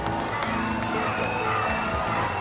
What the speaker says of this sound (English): Crowd is really loud.